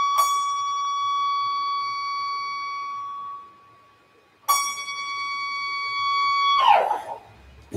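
Steady high-pitched electronic tone in D major with bright harmonics, sounding alone, cutting out briefly, then returning with a wavering burst near the end.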